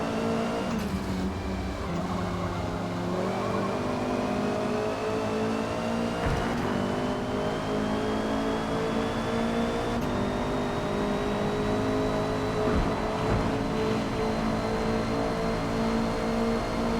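A Honda #73 Civic race car in Forza Motorsport at the Nürburgring Sprint circuit sounds a steady, loud engine drone that climbs slowly through the gears, with a few brief clicks of shifts or kerbs.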